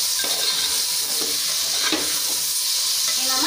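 Sliced mushrooms and a cup of curd are stirred together in a frying pan for mushroom biryani. A steady close sizzle runs throughout, with scraping spoon strokes and a few soft clinks against the pan, and no voices.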